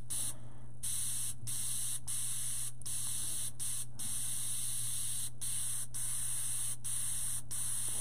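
Airbrush spraying paint for a chrome effect: a steady, close, fine hiss broken by short regular gaps as the trigger is released, about ten bursts over eight seconds, over a low hum.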